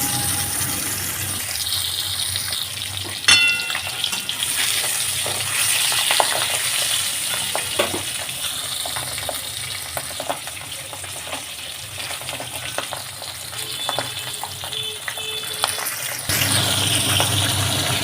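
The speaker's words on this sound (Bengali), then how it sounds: "এবার এদিকে তেলও গরম হয়ে গেছে, মাছগুলো ছাড়ব।" Pabda fish fry in hot oil with a loud, dense, continuous sizzle and crackle, a few sharper spatters and stirring clicks rising above it.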